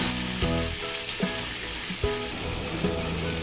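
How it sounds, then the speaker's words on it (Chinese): Bean patties pan-frying in oil, a continuous close sizzle with a few soft periodic taps or shifts of the pan. "而家可以煎一煎啲豆包啦"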